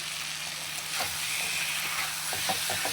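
Fried eggplant sizzles in a pan of fish and cauliflower curry, a steady bright hiss with a few soft stirring knocks near the end.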